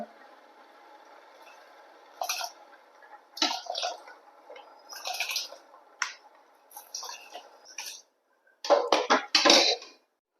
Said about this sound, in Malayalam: അപ്പൊ നമ്മുടെ വെള്ളം തിളച്ചിട്ടുണ്ട്. നമുക്ക് അരി ഇട്ട് കൊടുക്കുക